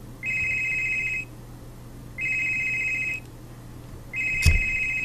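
An electronic telephone ring repeats three times in regular bursts, each about a second long with short gaps between, while a low steady hum sits underneath.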